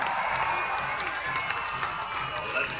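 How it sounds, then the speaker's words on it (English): A crowd at the Sydney Royal Easter Show cheers and claps for the HLS Trick Riding team, a broad sustained roar with scattered shouts and applause. "how about one giant cheer for the team from HLS Trick Riding?"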